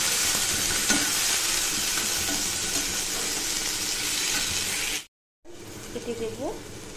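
A spice paste of cumin, black cumin, garlic and ginger fries and is stirred in a pan for a pomfret curry. It sizzles loudly and steadily, cuts out briefly, then returns quieter while someone speaks.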